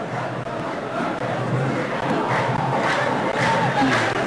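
Al-Ittihad supporters fill the 11 Million stadium during an evening football match, their massed chanting and roaring crowd noise carrying steadily from a distance without a break.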